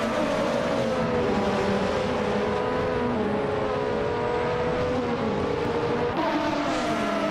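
A Ligier JS31 race car in a racing video game holds a steady, loud engine drone with a slight shift in pitch, continuous and alone throughout.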